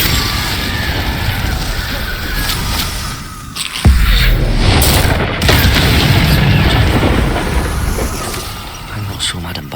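A fire spell blast in Hogwarts Legacy, with a loud boom and broadband roar surging in near four seconds and holding to the end over a busy, noisy game soundscape.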